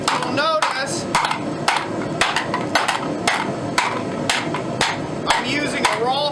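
A rawhide mallet hammers a heated saw blade being forged into a bowl, sharp irregular blows around two per second, close and clear.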